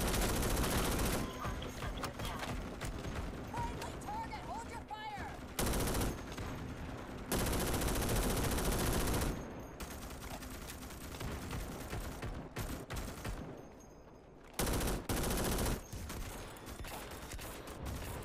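An enemy gunner opens up in a video game battle, with repeated loud bursts of automatic gunfire and fusillades coming and going over several seconds, broken by brief quieter gaps.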